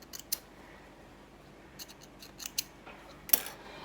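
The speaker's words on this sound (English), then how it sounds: "Snip those threads" Scissors snipping sewing threads on a garment: several quick, crisp metallic snips spaced irregularly, close and fairly quiet against a faint background hum, with no talking.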